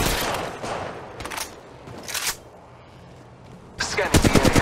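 Apex Legends Mobile gunfire crackles in several sharp bursts, with automatic fire that rattles rapidly, loud and close, separated by short lulls of quieter game ambience.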